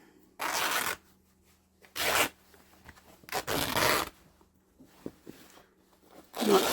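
Old junky denim jeans get torn apart along the seam by hand, four loud, separate ripping bursts of about half a second each, spaced by short pauses, close-up with no talking.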